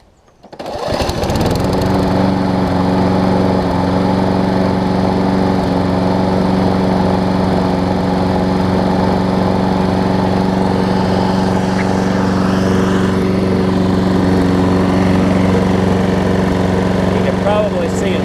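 A Troy-Bilt Quantum push mower with a Briggs & Stratton engine cranks and catches within about a second, then settles into a loud, steady, close running drone that holds for the rest of the stretch, with no voices over it.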